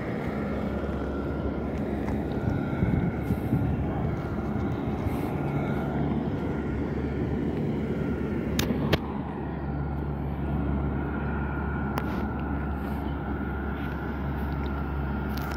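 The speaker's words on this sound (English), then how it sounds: "I've never heard an APU before. Holy crap, it sounds really weird." Auxiliary power unit on an American Airlines Boeing 737 at an airport, a steady droning whine with a low hum underneath, running continuously at moderate distance, with a couple of faint clicks partway through.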